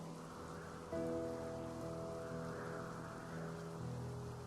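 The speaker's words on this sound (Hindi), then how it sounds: "आसमान से गिरती पानी की बूंदें" Rain falls steadily in the desert, making a constant, soft hiss with a low hum running under it.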